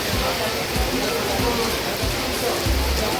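Heavy rain pouring down outdoors during a train journey to Puri, a loud constant rushing wash with low thumps and muffled voices underneath.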